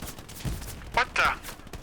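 Gunfire in a World War II video game comes as a few sharp bursts of shots, with a louder pair of cracks in quick succession near the middle, heard over low background noise and a voice.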